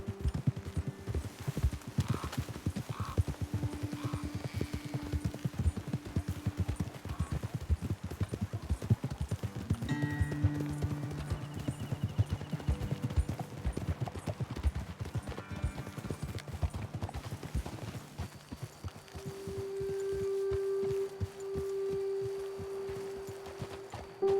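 Several horses walking in Red Dead Redemption 2, a steady, dense clip-clop of hooves that continues for a long stretch, close and even, fading toward the end as a sustained tone from the game rises.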